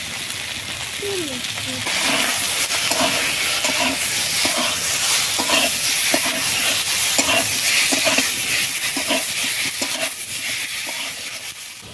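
Vegetables with turmeric and chili powder fry loudly in a pan, with a constant hissing sizzle and rhythmic spatula scrapes and taps as they are stirred close by.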